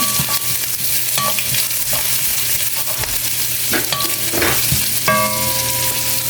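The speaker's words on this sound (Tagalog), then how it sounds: "tayo magigisa ng ginger" Ginger sizzles and fries in a pan for a Filipino home-style sautéed string bean and shrimp dish, with steady frying hiss and a few utensil scrapes and stirs, close and fairly loud with no talking.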